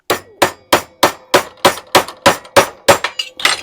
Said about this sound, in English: I'm just hammering the freaking thing in here